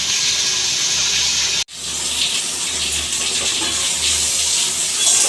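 Water pours steadily into a pan for suji upma, a continuous loud gushing stream with one brief break before flowing on.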